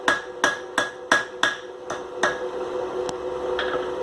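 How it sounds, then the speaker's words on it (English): Hammer blows strike hot iron on an anvil as the corners of a tapered bar are forged into an octagon, about nine sharp ringing hits at a steady pace, then fading into quieter ringing. "So I'm going to hammer all 4 corners"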